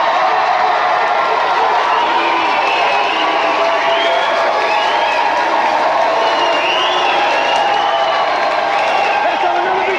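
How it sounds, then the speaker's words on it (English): A game-show studio audience cheers and applauds a celebrity winner, a dense, continuous wash of clapping, whoops and crowd noise held at full level throughout, with voices mixed into the roar. "Let's have another big cheer for Sonya and Johnny Cage!"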